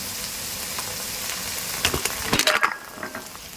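Vinegar, green chili sauce and green sauce going into a hot pan for chicken fried rice, a steady sizzle that flares into louder crackling bursts and spatula scrapes partway through, then settles.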